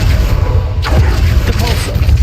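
An Accio summoning spell cast in Hogwarts Legacy, heard as a loud, dense magical whoosh with a rising sweep over a deep rumbling low end, close and continuous throughout.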